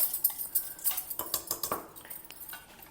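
A spoon stirs cucumber thayir pachadi in a bowl, with quick rhythmic clinks and scrapes against the dish, close and fairly quiet.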